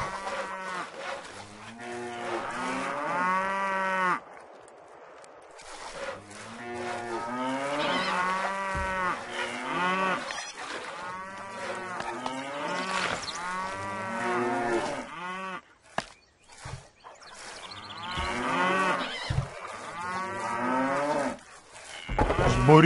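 Cattle in the medieval castle-building strategy game Stronghold moo repeatedly, a herd of several cows lowing in long overlapping calls, close and fairly loud, with only short gaps between them and no talk over them.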